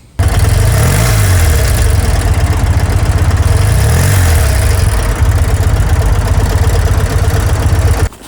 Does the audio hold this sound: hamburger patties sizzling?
no